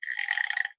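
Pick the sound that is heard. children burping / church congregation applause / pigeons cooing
children burping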